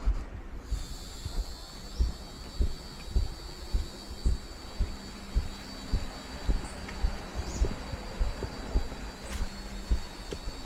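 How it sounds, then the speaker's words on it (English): Cicadas drone in a steady high buzz on the beach at Praia do Julião, Ilhabela, Brazil, continuous throughout, with rhythmic low footstep thumps of someone walking beneath it. "They have cicadas here too."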